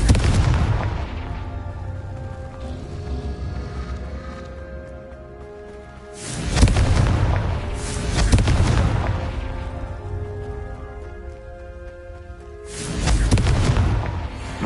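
Three heavy blasting-spell explosions go off in the Hogwarts Legacy video game, each a loud deep boom with a rumbling tail, spaced several seconds apart over a quieter background hum.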